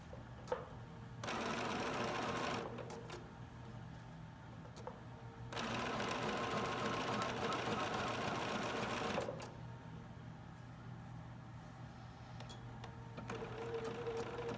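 A sewing machine stitches an applique in two long, loud, steady whirring bursts of rapid stitching, separated by quieter pauses with light clicks.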